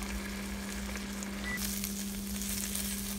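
Italian-dressed chicken sizzles in a hot pan as the dressing cooks off: a soft, constant frying hiss with a low steady hum beneath, swelling slightly brighter partway through, no speech.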